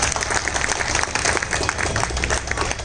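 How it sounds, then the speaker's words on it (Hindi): Audience clapping after a tabla solo performance, a full, continuous burst of many hands. "एक मरतबा ताली बजा के आप बताए।"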